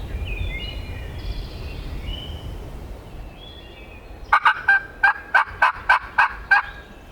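A wild turkey gobbles during a spring hunt in Pennsylvania or West Virginia, a loud rapid rattling burst of about eight sharp pulses near the end, after faint songbirds chirping in the background.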